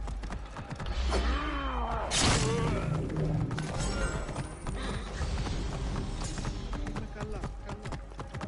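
A horse gallops with rhythmic clip-clop hoofbeats in Assassin's Creed Origins, layered with creaks, clashing impacts and tonal game effects. Steady, fairly loud and close, with a voice talking over part of it.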